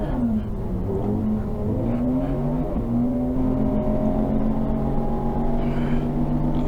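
Onboard a racing car in a 750MC Roadsports race at Silverstone International, the engine drones steadily near and loud, its pitch rising and falling through gear changes as it laps the circuit.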